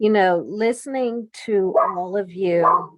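A dog barks and yips indoors at home, close by, mixed in with a person talking over it.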